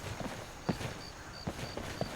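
Hooves of a horse clip-clop in the video game Skyrim, a few faint, evenly spaced steps over a soft background hiss.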